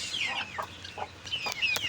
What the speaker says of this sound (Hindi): ये मुर्गी है और ये चूजे हैं सारे 5 के 5।